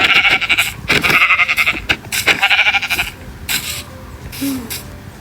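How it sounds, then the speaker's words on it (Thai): Sheep in the Minecraft video game bleat several times in short, bright bursts, close and fairly loud, with game sound effects between them and no talking. "ผมก็เจอแกะไปฆ่าเลยล้วกันนะ"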